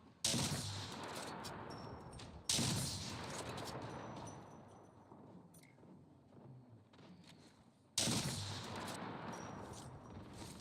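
Loud bursts of gunfire from the battle royale video game Apex Legends, heavy shots hitting hard at about 0, 2.5 and 8 seconds, each trailing into a dense, decaying rumble of continued firing and explosions.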